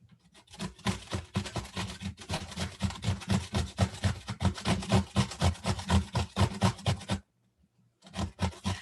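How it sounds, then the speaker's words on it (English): Cucumber with the skin left on is rubbed against a grater in quick, rhythmic rasping strokes, close and fairly loud, running for several seconds before a short pause and a final few strokes. "I do like to leave the skin on though, as much as possible when I'm grating the cucumber"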